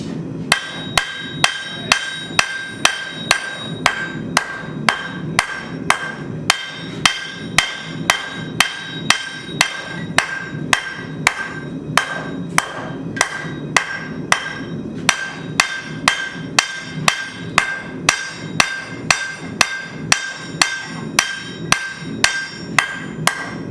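A hammer pounds a kitchen knife blank on an anvil during forging, delivering sharp ringing metallic strikes in a steady rhythm, roughly two blows per second with occasional pauses, close and loud with no talking.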